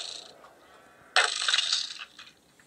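In Minecraft, a sheep gives one bright, moderately loud bleat that tails off after a faint earlier sound.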